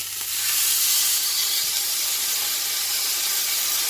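Loud, steady sizzling of a rib-eye steak searing in a screaming-hot frying pan, a continuous bright hiss with no talking.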